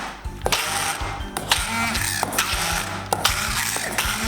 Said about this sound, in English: I'm pulsing to make a kind of a puree.